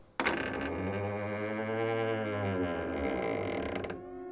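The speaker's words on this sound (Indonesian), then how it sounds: "Suara yang terdengar seperti suara pintu yang bergeser terbuka perlahan." A door slides slowly open in a horror story effect, a long, loud, drawn-out creak with a steady groaning tone that bends up and down for about four seconds before cutting off.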